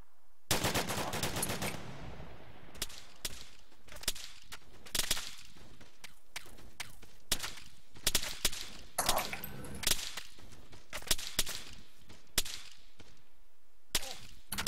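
Bursts of automatic gunfire lay down suppressive fire on a hillside in a military video game, a fireteam exercise; loud, sharp cracks repeat in irregular clusters across the whole stretch, with no talk heard.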